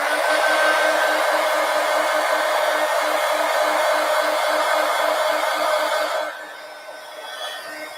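A hair dryer runs steadily on wet ink in an adult coloring book for about six seconds, then cuts off and leaves a quieter room tone.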